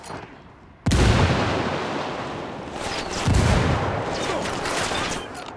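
Two heavy frag grenade blasts in a video game, one near the start and another about midway, each a sudden deep boom rising out of a continuous roar of battle gunfire.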